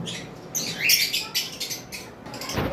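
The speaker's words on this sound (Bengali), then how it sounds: "ভিউয়ার্স দেখতে পাচ্ছেন কোকাটেল পাখি আমাদের কাছে অনেকগুলো কালেকশন রয়েছে।" Several cockatiels in a bird seller's collection chirp and squawk in quick, overlapping bursts, bright and fairly close, with no one talking.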